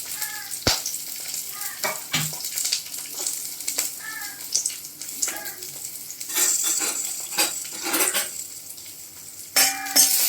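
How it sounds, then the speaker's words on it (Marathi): Green chilies and garlic fry in oil in a pan with a steady close sizzle, punctuated by sharp clinks and scrapes of a utensil stirring against the metal. "त्याच्यात आपण मिरची भाजून घेणार आहोत आणि जो लसूण सोडलेला आहे तो पण आपण थोडासा परतून घेणार आहोत"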